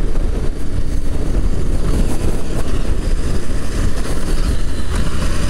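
A Husqvarna Norden 901 adventure motorcycle rides along with a dense, rumbling roar of wind and engine heard from the rider's position, loud and unbroken throughout.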